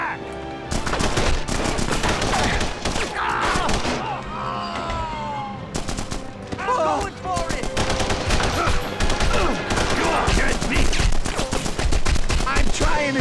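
Sustained game gunfire from the Punisher video game, dense rapid bursts like automatic weapons blasting almost continuously and loudly, with a few brief pauses and talk mixed in.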